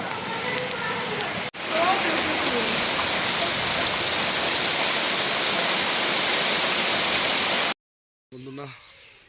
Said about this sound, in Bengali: সুন্দর বৃষ্টি সাধারণত দেখা যায় না।